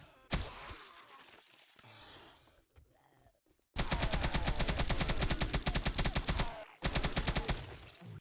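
UMP submachine gun in a Tarkov-style mod for 7 Days to Die, firing one short full-auto burst, then after a pause two long, loud rapid-fire strings of shots.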